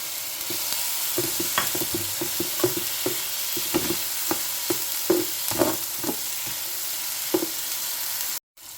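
Tomato and egg fry in a pan while being stirred, with a constant loud sizzle and repeated rhythmic scraping strokes of a utensil, cutting off abruptly near the end.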